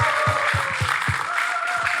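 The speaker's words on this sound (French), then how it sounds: "Est-ce qu'on peut aller applaudir bien fort" A studio audience on a French entertainment set claps and cheers after being asked to applaud, a dense continuous wash of hands with a few sharper claps standing out close by.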